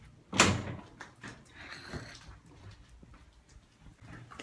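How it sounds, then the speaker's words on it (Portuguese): A door in an older house is shut with a single sharp, close thud, followed by faint footsteps, rustling and quiet household movement. "Deixa eu fechar a porta."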